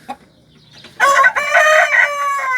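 Indian game roosters in a new coop crow loudly and close by, one long drawn-out cock-a-doodle-doo rising after a brief quiet start with a faint cluck.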